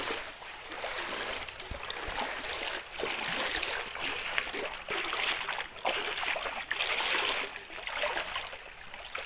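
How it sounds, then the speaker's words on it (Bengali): During a 2024 flood in Balaganj, Sylhet, floodwater pours in through a gate with a broad, steady rushing and splashing roar, close and continuous. "এই গেট দিকে প্রচুর পানি প্রবেশ করতেছে।"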